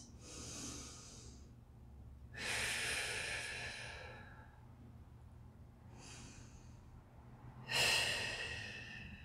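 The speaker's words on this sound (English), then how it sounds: "Two more breaths." Deep breathing during a stretching and mobility workout: four slow, close, audible breaths, long airy inhales and exhales with pauses between them.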